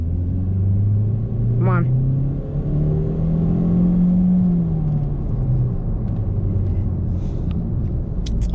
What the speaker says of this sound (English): Let's give it one last rev.